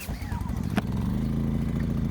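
Wen 56225i inverter generator starting on the first pull, a quick cord-pull rasp followed by the small engine catching into a steady, close, buzzing idle with a rhythmic low pulse.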